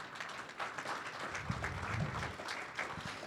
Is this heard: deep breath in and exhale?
no